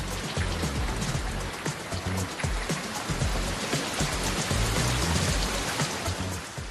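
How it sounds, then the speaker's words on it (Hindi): Heavy monsoon downpour pounding steadily on surfaces, a dense continuous roar of rain with close drumming drops and running water, loud and unbroken throughout with no voices. "कहीं ऐसी बारिश हो रही है कि पुल बहे जा रहे हैं"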